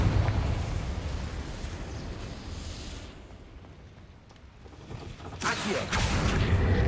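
Confringo fire spell blast in the Hogwarts Legacy video game, a loud, roaring burst of flame and rumble that dips briefly and then swells again with a bright whooshing flare.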